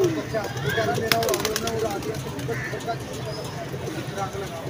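A large flock of pigeons in blue, yellow and green colours keeps up a soft, continuous cooing near by, with a brief clatter early on and people talking over it.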